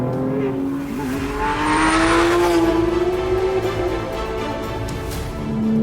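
A naturally aspirated Porsche 997.1 GT3 RS engine revs hard and loud nearby, its pitch climbing and holding through the gears in a sustained roar.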